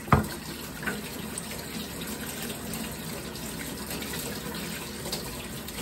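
Tap water runs steadily into a sink while produce is washed, a continuous close splashing gush with a brief louder burst at the start and no voices.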